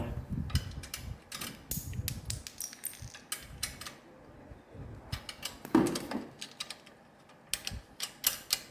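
Metal nuts and bolts being fitted and tightened while a four-wheel lawn mower is put together, giving scattered close clicks, taps and ratcheting clatter with short pauses between bursts.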